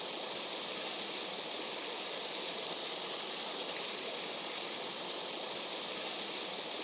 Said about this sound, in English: Welcome to the waterfall.